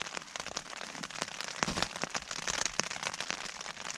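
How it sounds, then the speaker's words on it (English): Rain patters on a Terra Nova Southern Cross tent at a kayak camp on Loch Linnhe, a dense close crackle of drops with no talking. "sitting in a tent listening to the rain"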